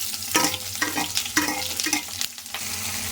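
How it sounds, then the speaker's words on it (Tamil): Onions sautéing in oil with garlic and chilies, a close crackling sizzle broken by several brisk stirring scrapes of a spoon in the pan, with no voices. "வெங்காயத்தை போட்டு நல்லா வதக்கிடலாம் ஃப்ரெண்ட்ஸ்"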